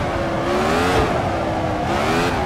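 Car engine revving hard at full throttle, a loud, sustained, close roar with the pitch rising and falling slightly as the car starts to understeer.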